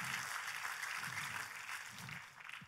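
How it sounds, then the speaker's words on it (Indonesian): Audience applause during a church sermon, faint and distant, a continuous soft patter of many hands clapping with no voices over it. "Oh, tepuk tangannya lebih dahsyat lagi."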